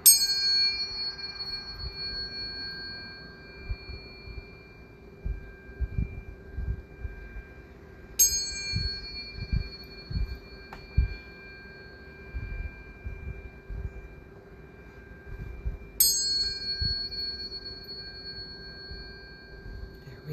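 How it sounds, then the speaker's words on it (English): Metal chimes and tuning forks ring out three times at regular intervals, each strike a bright bell-like tone that decays slowly over a low steady hum, with faint talk underneath. "And I'm going to ring some of the chimes today. The tuning forks for anyone who would like to receive."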